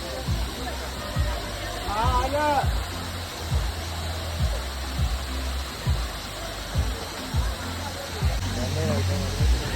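Jhakri Falls waterfall near Gangtok, a steady broadband rush of water heard throughout, with people chattering and repeated rhythmic footsteps or knocks over it.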